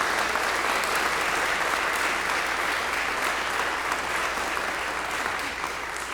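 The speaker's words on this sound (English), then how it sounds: "Can we give you a round of applause?" A concert audience at a summer music festival applauds the endowment founders, a loud, dense and steady roar of clapping from many hands that holds evenly throughout before easing slightly at the end.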